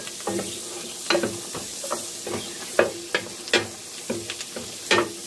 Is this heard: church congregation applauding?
no